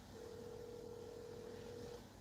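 A single steady electronic telephone tone holds for about two seconds over a faint background hum, quiet and unbroken.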